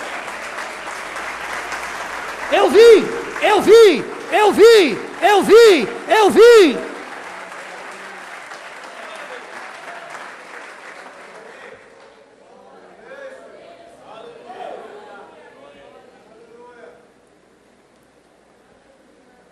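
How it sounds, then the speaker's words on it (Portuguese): A church congregation applauds in a broad wash of clapping for about ten seconds, with several loud voiced bursts on top, then thins to scattered quieter sounds before fading out; a voice briefly speaks. "vocês aplaudem a Jesus"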